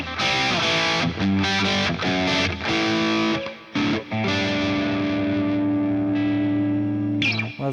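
Distorted electric guitar played through a ToneX amp profile of a Marshall JCM800 with plate reverb, loud chugging chords and sustained ringing notes, no talking.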